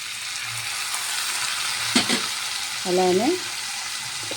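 Tomato pieces fry and sizzle in a pan for a puffed-rice chitranna dish, a steady close hiss with a brief stir, while a voice speaks a word or two.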